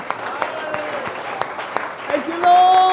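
Church congregation clapping during a lively sermon, a steady crowd of hand claps with distinct sharp strikes, voices rising and shouting over it toward the end.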